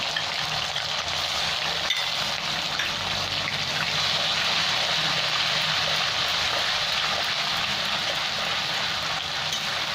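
Spices and ginger paste frying in a pan for chicken biryani, a steady, dense sizzle close by that holds evenly throughout without pause.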